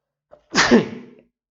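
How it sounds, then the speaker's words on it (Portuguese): A single loud, close sneeze bursts out after a faint sharp intake of breath, then trails off quickly into silence. "Opa! Eu espirrei"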